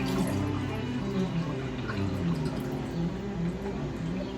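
Cold brew coffee poured over a kitchen sink, a continuous liquid splashing and dripping that runs steadily throughout at close range, without any speech.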